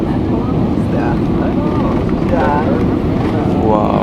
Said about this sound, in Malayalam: അങ്ങനെ ആമസോണിൻ്റെ മുകളിലൂടെ നമ്മൾ വന്ന് പറന്നിറങ്ങുവാണ് കേട്ടോ, ലറ്റീസിയ അന്താരാഷ്ട്ര വിമാനത്താവളത്തിൽ.